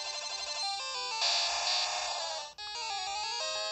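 A Pokémon cry plays in a Gen 2 Pokémon game on the Virtual Console, a loud chiptune screech of stepped, buzzy electronic tones with a brief dropout partway through.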